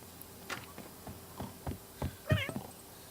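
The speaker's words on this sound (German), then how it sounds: "Die Katzen schreien wie immer." A single brief meow from a cat in The Sims 3 comes near the end, after a run of soft clicks and light thumps in the game.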